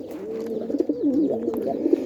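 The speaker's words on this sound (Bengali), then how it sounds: "আমাদের একটা কবুতর আমাদের এটা পালিয়ে এসেছে" A pet pigeon that flew back home coos close by, its soft rolling calls warbling up and down over a quiet background with no voices.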